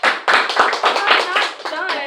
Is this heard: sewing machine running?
no